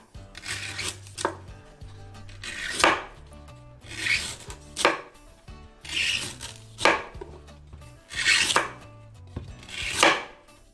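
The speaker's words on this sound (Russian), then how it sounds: "начинаем стучать тыльной стороной ножа" A knife's spine knocks repeatedly against a coconut being opened for a street-food coconut cocktail, making about a dozen crisp, close taps in loose pairs at a steady rhythm, with no other sound around them.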